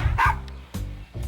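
A dog barks close by in a short burst of about three sharp, loud barks, with brief pauses between them.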